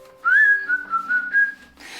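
Person whistling a short tune, a clear, close melody of several held and gliding notes with no talking over it.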